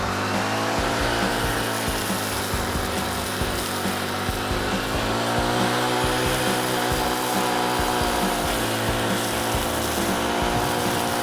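Brush cutter with a trial blade fitted cutting through grass, a continuous loud motor drone with rough scraping and shredding texture, steady over eleven seconds, no voices.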